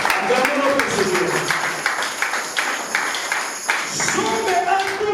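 A church congregation claps in a steady rhythm during a Bible seminar at Église Camps de Dieu in Beauvais. The brisk, even claps run throughout under voices singing or talking.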